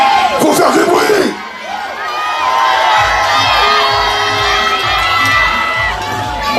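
Loud crowd at a Congolese-style wrestling match cheers, shouts and whoops, with a sharp burst of yelling early on and then a steady roar of voices that holds to the end.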